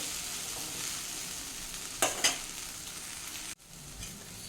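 Okra frying in a pan with little oil, a steady close hiss of sizzling broken by two quick scraping stirs, then the sound drops sharply as the heat is switched off.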